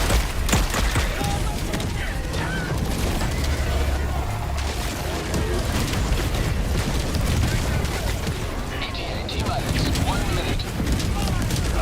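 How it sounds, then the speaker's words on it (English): An orbital napalm barrage in Helldivers 2 pounds the ground with a continuous, dense rumble of explosions and crackling impacts lasting the whole stretch, while a voice talks over the din. "Here comes my orbital napalm barrage."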